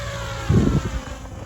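A Blade 700 Fusion RC helicopter flies smooth sport passes with a steady engine and rotor drone that swells briefly louder midway.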